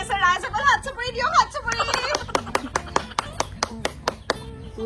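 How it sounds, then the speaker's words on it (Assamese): An audience at a village fashion-show comedy event claps in a loose burst of hand claps that gradually thins into separate claps, with a voice speaking over the start. "ৰাইজসকল হাত চাপৰি দিয়ক"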